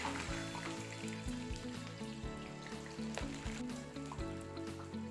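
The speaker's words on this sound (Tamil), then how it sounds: "எண்ணெயில் போட்டு பொரிச்சு மெதுவாக பொரிச்சு எடுக்கலாம்" Plantain slices fry slowly in hot oil, giving a steady close sizzle with a dense crackle of bubbling and occasional light stirring or tapping sounds.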